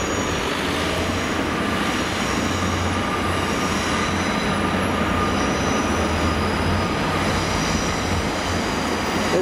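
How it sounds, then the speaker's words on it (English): Steam locomotive 70000 Britannia hauls a train past near Bath, a loud continuous rumble of wheels and carriages rolling close by with a faint squeal over the roar, no voices. "this train will go back to Temple Mead"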